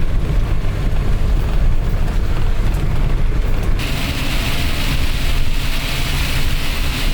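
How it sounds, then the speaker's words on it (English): A camper van drives along a wet road in steady rain near Patara, Turkey, giving a continuous loud roar of tyre spray, engine and rain noise with no pauses, the hiss brightening partway through. "Let's try and drive out of this road in the rain."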